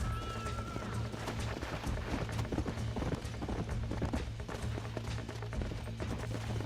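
Horses gallop in the Red Dead Redemption video game, dense rapid hoofbeats clattering continuously at moderate loudness, with a low steady hum and a brief whinny-like tone early on.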